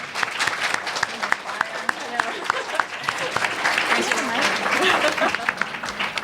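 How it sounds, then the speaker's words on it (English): Audience applause at a Banned Books Week question-and-answer book event, a lively burst of clapping from a modest indoor crowd, sustained and close, with some murmuring voices mixed in. "Let's clap."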